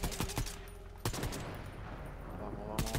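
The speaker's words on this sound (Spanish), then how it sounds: "Hay tiros ahí, delante tuya" Gunfire in the video game Fortnite: several sharp shots near the start, another loud burst about a third of the way in, and a final volley at the end, over a steady bed of in-game noise and tones.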